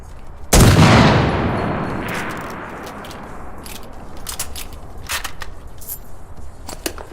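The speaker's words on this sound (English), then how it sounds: "What in the fuck kind of gun is this?" A single loud gunshot from a gun in a video game bursts out near the start and rings off into a long decaying echo, followed by scattered faint clicks and rattles.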